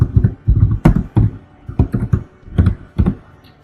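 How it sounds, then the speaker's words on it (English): Fingers type on a computer keyboard in close, uneven bursts of clicky keystrokes separated by short pauses, with no one speaking. "I'm just going to type in a little words here"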